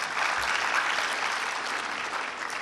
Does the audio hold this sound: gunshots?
no